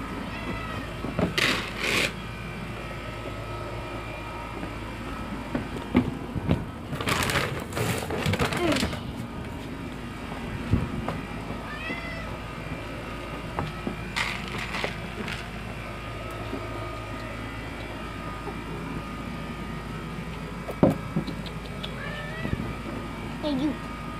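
A cat meows several times in short, scattered calls amid rustling and clattering background noise, with faint voices at moments.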